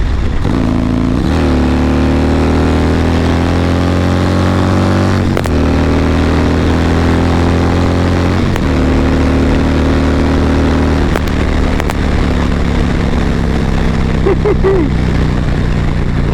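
A motorcycle engine fitted with a new cam and a Dynojet tune revs hard and holds a loud, steady drone, with sharp rising revs and gear changes running through it, close and alone.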